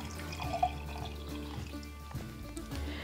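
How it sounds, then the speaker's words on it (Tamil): Milk pours into a milk frother in a steady, quiet liquid stream with light splashing and trickling, heard close up with no voices. "பால் வந்து இதில் ஊற்றிடலாம்."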